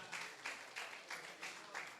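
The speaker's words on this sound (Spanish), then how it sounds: "Démosle una ofrenda de palmas," A church congregation clapping in unison at a Spanish-language service, about six evenly spaced bursts of claps, faint and distant.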